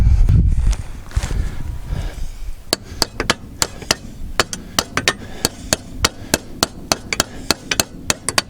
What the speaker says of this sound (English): Do that, I need a hammer.